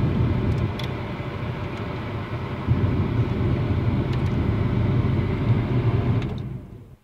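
Steady low engine rumble and road noise from inside a moving car, continuous and fairly loud, with faint higher clicks above, fading out near the end.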